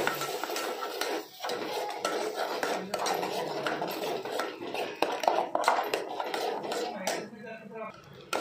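Utensils scraping and clinking as masala is mixed into a prawn curry in a pot, a busy close rattle of metal on metal that continues steadily with a short pause partway through.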